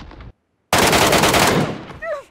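Sustained burst of automatic gunfire with incendiary rounds in the Metro escape video game, a short shot, a pause, then a loud rapid volley, with a brief voice at the end.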